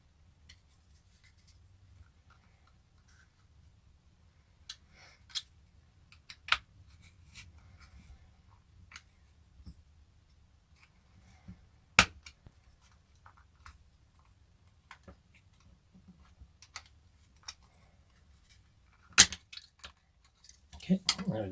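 Plastic case of a Power Geek power bank being pried open, giving scattered sharp clicks and snaps from the clips over a faint low hum, with a couple of louder cracks near the end.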